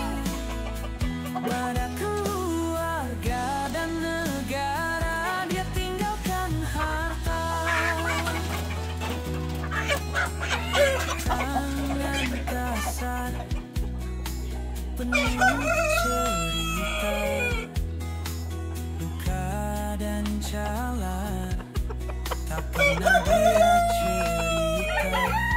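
Chickens cluck and a rooster crows repeatedly on a family farm raising Sussex and imported breed chickens, the calls close and loud over continuous background music.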